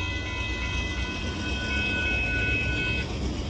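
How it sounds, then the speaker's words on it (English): A long northbound Union Pacific freight train of boxcars rolls past a road crossing in Austin, Texas, a steady loud rumble and rattle of wheels with faint squealing tones throughout, no talk. "What a humongous train, northbound Union Pacific boxcar train reaching Ferromex"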